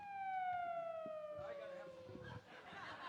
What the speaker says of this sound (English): That sounded like my siren.